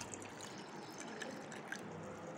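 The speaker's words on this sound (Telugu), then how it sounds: "నేను కొద్దిగా వాటర్ పోసుకున్నాను." Water pours into buttermilk in a home kitchen, a faint, close trickle that runs steadily for a couple of seconds with no talking.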